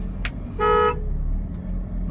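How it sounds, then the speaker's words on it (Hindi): A car horn gives one short, loud blast, steady and clear, heard from inside a car during a driving lesson on a busy road, with faint traffic rumble around it. "और इनको हॉर्न दे दो"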